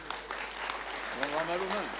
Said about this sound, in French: Je vous propose d'applaudir encore de nouveau très très fort.